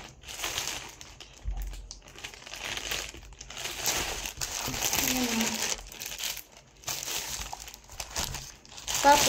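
Taped package being unboxed, with plastic crinkling and rustling in irregular close-up bursts throughout, and a voice speaking over parts of it.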